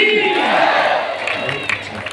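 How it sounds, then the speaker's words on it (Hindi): A large crowd at a religious gathering at Bageshwar Dham in Dandraua roars and cheers in a loud, sustained swell that fades slightly toward the end, with a few sharper bursts near the close. "वाह, जोरदार ताली बजाओ।"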